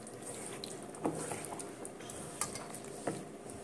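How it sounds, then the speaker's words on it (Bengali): Pakoras for chilli chicken frying in oil in a pan, a steady soft sizzle broken by a few sharp spatula taps and clinks against the pan. "এবারে চলো পকোড়াগুলো ভাজি।"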